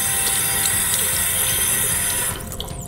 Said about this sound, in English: you can add a little bit of soap, light detergent, clean it off, rinse it, make sure all the soap is thoroughly rinsed